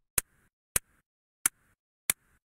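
A tambourine run through a Kontakt Insect lo-fi insert effect gives four sharp, crisp, papery clicks spaced evenly apart, each dying away almost at once into silence.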